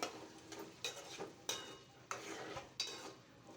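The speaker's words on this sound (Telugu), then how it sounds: "అవి మొత్తం కూడా మంచిగా ఫ్రై అయిన తర్వాత ఆలు ముక్కలు వేసి ఆయిల్లో ఫ్రై చేసేసుకోవాలి." Potato pieces for a drumstick and potato curry fry in oil in a pan, giving a steady sizzle broken by several sharp scrapes and clinks of a utensil stirring them, close and fairly quiet with no talking.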